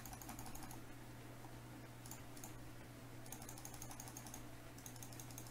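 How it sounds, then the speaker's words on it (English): Steady computer keyboard typing and mouse clicking while building a Minecraft café scene, rapid clustered clicks in bursts over a constant low hum, fairly faint and close, with no talking. "You get to hear a whole bunch of clicking."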